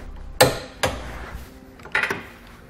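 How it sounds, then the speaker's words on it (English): Metal clanks from a 19 mm socket and wrench tightening hitch receiver bolts under a 2014 BMW 3 Series: three sharp, close knocks about half a second to a second apart, with quiet between, no talking. "We can now tighten down all of our hardware using a 19 millimeter socket and wrench."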